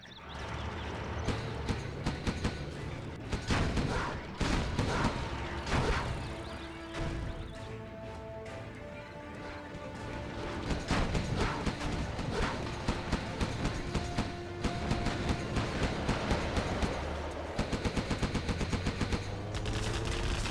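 Gatling cannon firing in a competitive strategy game match, heard as steady rapid rattling bursts that repeat throughout amid busy battle noise and layered game effects.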